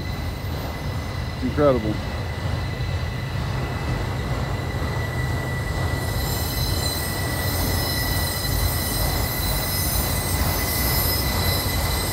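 An auto rack freight train rolls around Horseshoe Curve in Pennsylvania with a steady metallic wheel squeal over a continuous heavy rumble, and someone speaks briefly near the start.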